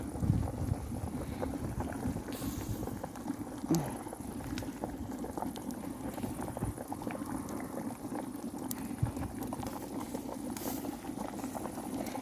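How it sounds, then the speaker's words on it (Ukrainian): Water with potatoes bubbles at a steady rolling boil in a pot, a continuous churning fizz with faint scattered pops throughout. "І ось тут картопелька гарно кипить"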